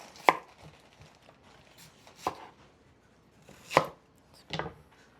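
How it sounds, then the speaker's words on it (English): A knife chops through an onion on a board while a seafood boil is prepared, giving four sharp, separate cuts at uneven intervals, close and fairly loud against a quiet background. "you can dice up your onion"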